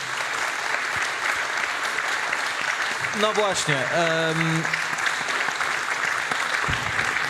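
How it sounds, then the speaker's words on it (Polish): Audience at the Blog Forum Gdańsk 2017 conference applauding panelists, continuous even clapping across the whole stretch with a speaker's voice briefly heard over it. "Jeszcze raz, wielkie brawa."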